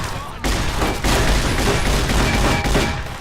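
Dense, continuous gunfire from a weapon in the video game Fallout New Vegas, loud and sustained over the whole stretch with a few sharp surges, with no talk over it.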